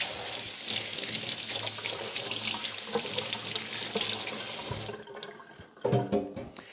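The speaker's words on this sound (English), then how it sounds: "Let me rinse my hands." Tap water runs steadily into a sink while hands are rinsed of raw egg, a close splashing rush that cuts off sharply, followed by a few faint clinks.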